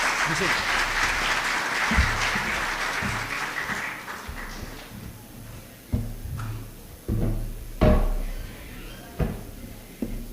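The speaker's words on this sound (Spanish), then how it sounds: "Recibamos entonces con un fuerte aplauso" An audience at a lecture on Latin American regional integration applauds a speaker, loud steady clapping that fades over about four seconds, followed by scattered thumps and knocks as someone settles in.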